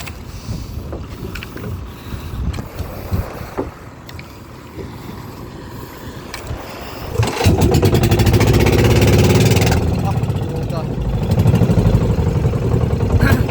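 Boat engine on an open-sea ride, a lower rumble with wind and water noise that suddenly rises into a loud, sustained roaring rev, easing slightly and then building again.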